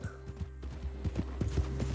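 Hooves of a stallion clip-clopping in the Red Dead Redemption 2 video game, a quick run of close, crisp knocks over a low hum, slightly irregular in rhythm and growing a little louder toward the end.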